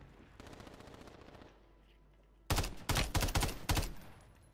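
Gunfire in an online squad shooter. A rapid automatic burst sounds first, then a brief lull, then a louder, closer string of heavy shots in quick clusters, with no talking.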